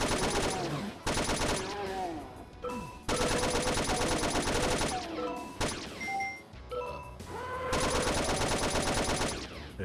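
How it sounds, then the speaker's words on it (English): Rapid shotgun blasts in a Doom mod video game fire in long, dense volleys of hard percussive shots, broken by brief pauses, loud and up close, with someone talking faintly underneath. "See how the shotguns are holding up."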